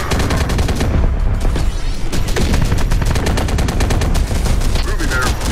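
Sustained automatic gunfire and rapid shot bursts from the strategy video game Terminator: Dark Fate - Defiance, loud and continuous with dense repeated cracks, mixed with occasional battle sounds and faint voices.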